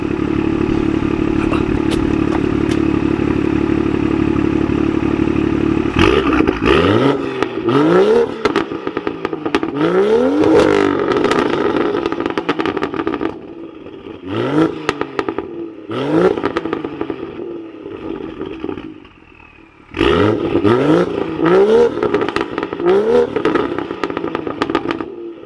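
BMW M2 revving and accelerating hard in bursts, loud and close, with rising engine sweeps, crackles and brief pauses between pulls, no talking.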